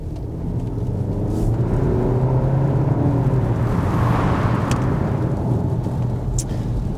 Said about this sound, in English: So, into third, I'm going to do a little acceleration test.